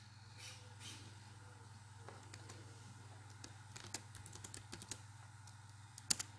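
Someone types a name on a computer keyboard beside an Ohbot educational robot, producing faint, scattered key clicks that pick up into a quicker run toward the end over a steady low electrical hum.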